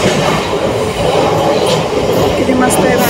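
Inside a moving train, a loud, steady rumble of wheels and carriage noise runs throughout, with faint squeaks and rattles on top.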